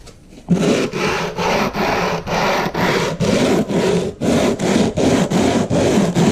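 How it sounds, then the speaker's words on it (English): Rhythmic back-and-forth sanding of HO scale foam roadbed with 80 grit sandpaper wrapped on a block, about a dozen steady strokes, close and fairly loud, with no talking. "I'm going to take some 80 grit sandpaper that I wrapped in a block"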